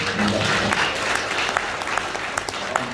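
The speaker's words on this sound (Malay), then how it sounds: "Bagi tepukan." A congregation at a church gathering applauds steadily for a visiting pastor, a dense, even wash of clapping with a few sharper claps standing out and faint voices underneath.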